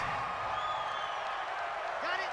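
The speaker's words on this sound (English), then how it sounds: "The crowd's not doing that O-line any favors." Stadium crowd at an NFL game between the Miami Dolphins and Buffalo Bills keeps up a steady roar from many voices, with a brief rising whoop near the end, all at a distant, even level.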